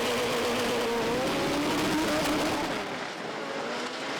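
A Citroën AX doorslammer drag car fitted with huge wheelie bars launches hard off the start line at Santa Pod, a loud continuous engine roar with rising revs that holds throughout before easing slightly near the end.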